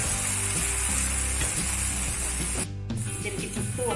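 Dosa batter poured onto a hot pan sizzles loudly and continuously up close, a bright frying hiss with stirring or spreading sounds and a brief dip midway.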